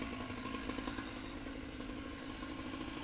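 A chainsaw runs steadily and fairly close at an outdoor automatic gate installation, its buzzing whine holding without a break.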